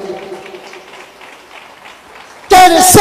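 A congregation bursts into loud applause during a Catholic sermon, the clapping starting abruptly after a stretch of the preacher talking and continuing close and dense to the end.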